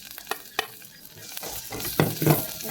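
Cabbage and carrots sizzle in a hot pan while a utensil scrapes and stirs them in irregular bursts, close and fairly loud.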